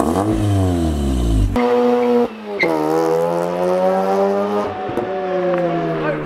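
An RX3 project car in a garage revs hard, its engine note climbing and dropping through several loud, close bursts with sharp cutoffs as flames pop from the exhaust.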